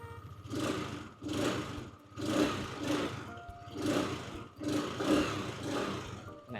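A 2023 Malaguti Madison 150 scooter with stock exhaust idles close by, a low, even engine murmur that swells and eases in a slow repeating rhythm, roughly every second, with no talking.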